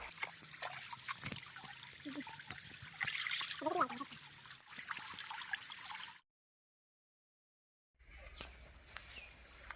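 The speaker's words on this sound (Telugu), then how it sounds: "మనం ఇప్పుడు ఈ వాటర్తో కడగబోతున్నాం." Water trickles and splashes as bamboo shoots are washed, a close, uneven dribble with small clatters that cuts out abruptly to silence, then resumes as a fainter steady flow.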